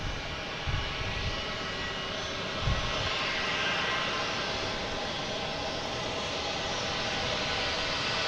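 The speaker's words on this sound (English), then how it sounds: "next up is Delta coming in from Pittsburgh. It's flight 5673 and E175." Delta Embraer E175 regional jet landing at Boston Logan, a sustained engine roar with faint low thumps early on, steady and moderately distant throughout.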